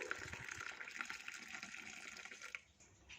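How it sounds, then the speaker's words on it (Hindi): Hot milk chocolate poured into a cup for a chocolate coffee, a continuous gentle liquid pour and splash that fades out near the end, faint and close. "गर्मा गर्म मिल्क चॉकलेट को इस तरह से डाल देंगे।"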